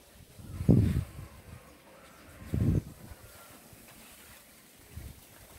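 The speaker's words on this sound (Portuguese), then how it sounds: "Acho que vocês estão escutando barulho até do vento né, na filmagem." Wind gusting across a microphone outdoors on a breezy house balcony, three low rumbling buffets at irregular intervals over a quiet background.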